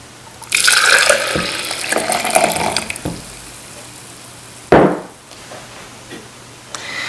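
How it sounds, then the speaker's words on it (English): Freshly brewed coffee is poured into a NutriBullet cup, a steady liquid stream for a couple of seconds, then a short second splash as the pour finishes, close and fairly loud. "Cup of coffee brewed, and I'm just going to pour it now into my NutriBullet cup"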